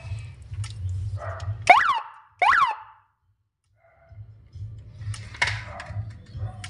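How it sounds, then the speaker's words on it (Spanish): A home security system's panic alarm siren sounds twice as short, sharp, sweeping electronic chirps. The chirps are loud and close, with a low hum and a pause of near silence around them. "Alarma de pánico."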